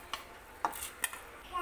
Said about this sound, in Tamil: இப்போ பாஸ்மதி அரிசியை சேர்த்துக்கலாம்.